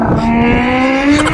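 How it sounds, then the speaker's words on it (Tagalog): Motorcycle engine held at a steady, slightly rising whine for just over a second, loud and close, with no voices over it. "ang tunog ng motor."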